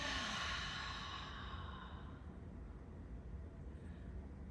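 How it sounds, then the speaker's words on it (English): A single breath closing a yoga practice: a soft, airy open-mouth exhale that fades gradually over a couple of seconds, leaving a low, quiet room hum behind it. "we'll close this demo with the sound of one inhale, open mouth exhale"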